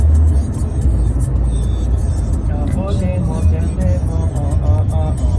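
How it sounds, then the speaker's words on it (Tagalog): Heavy traffic on Sheikh Zayed Road in Dubai rumbles steadily from inside a vehicle, with a deep continuous road drone and passing engine noise. People talk over the rumble in the second half. "Sobrang traffic."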